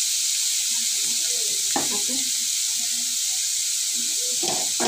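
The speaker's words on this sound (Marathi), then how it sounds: "चांगलं मिक्स करून घ्यायचं आहे।" A drumstick vegetable curry sizzles steadily in a frying pan, with a bright continuous hiss and a few soft stirring scrapes, close by.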